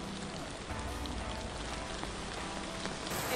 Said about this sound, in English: It's starting to rain so hard and it's flooding.